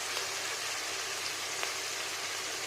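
Fish or prawns coated in salt and turmeric frying in oil give a steady, soft, rain-like crackle that stays even and fairly faint throughout.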